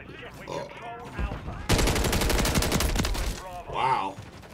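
Sustained burst of automatic gunfire in an online shooter game during an objective-capture match, a loud rapid stream lasting about two seconds, with a voice talking briefly before and after it.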